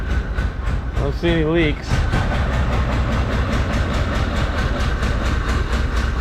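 An old Porsche engine idles roughly nearby, a steady low thumping and rumble that runs throughout while someone talks briefly over it.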